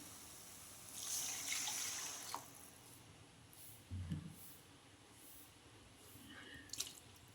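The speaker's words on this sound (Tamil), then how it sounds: "தேவையான அளவு தண்ணியை ஊற்றிக்கலாம்" Water splashes and trickles into a pan of boiled egg curry gravy in a couple of short pours, with faint clinks of a utensil against metal in a quiet kitchen.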